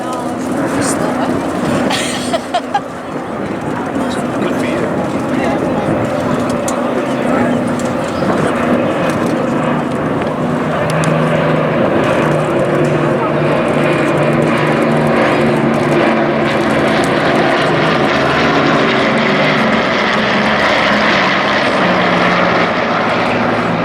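Propeller-driven fixed-wing aircraft of the Battle of Britain Memorial Flight passing at Blackpool Airshow, a steady loud engine drone that holds throughout, with a crowd or commentary voice running underneath.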